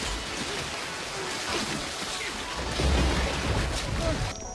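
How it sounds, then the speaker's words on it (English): Rain beginning to fall during a motorbike ride on the Mae Hong Son Loop between Chiang Mai and Mae Sariang: a steady, dense hiss of rain and rushing noise, swelling slightly near the end. "it's starting to rain"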